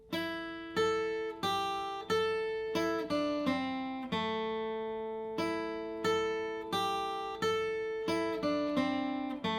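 Two measures of the bluegrass tune Cluck Old Hen on acoustic guitar, a steady run of picked notes and ringing pairs with one longer held note midway, close and unaccompanied.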